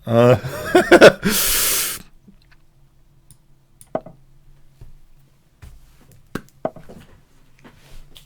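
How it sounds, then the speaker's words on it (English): Eye mist spray from a small pump bottle, one brief close hiss right after a short spoken phrase, followed by quiet clicks and small handling sounds. "I think I need to spray my eyes."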